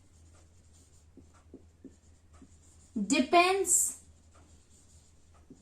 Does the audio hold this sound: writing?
yes